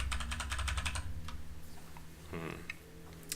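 Fingers type on an Ergodox split keyboard, with a quick run of crisp, close key clicks at the start, followed by a few scattered keystrokes over a low background hum.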